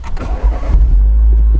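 A modified Mini's engine roars loudly up close as the car pulls away, a sharp rev settling into a steady low drone.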